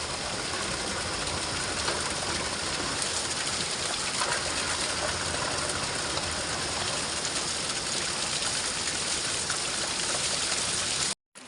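A mountain spring in a hill village pours water in a steady, dense rushing splash. The sound is close and constant, with no talk, and it cuts off abruptly at the end.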